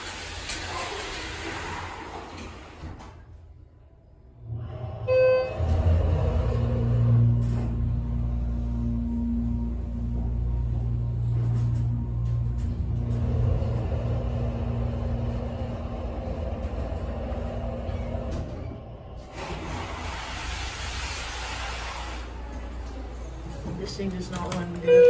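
A rough Schindler hydraulic auxiliary elevator at a mall starts with a drawn-out motor hum, then a steady low rumble and drone runs for a long stretch before it stops, with people talking quietly at times.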